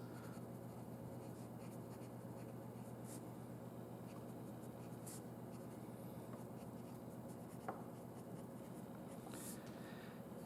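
A pencil drawing and labeling graph axes makes faint, scattered scratching strokes under a steady low background hum, with no clear speech.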